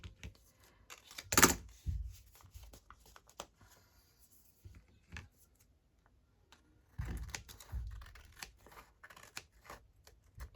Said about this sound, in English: now I'm going to trim this one down